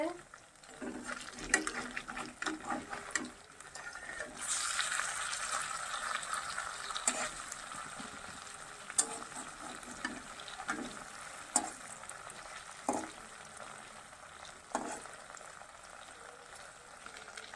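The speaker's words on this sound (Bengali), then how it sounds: "তো দেখো লাল লাল করে ভেজে নিয়েছি, ভাজা হয়ে গেছে" Pieces of potato paneer fry in a pan with a soft, continuous sizzle and bubbling oil, punctuated by occasional clinks and scrapes as they are turned, faint and close.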